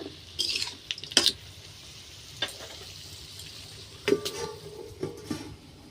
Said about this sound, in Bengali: এখন আমি একটু নেড়ে চেড়ে চাপা দিয়ে ঢেকে দেব।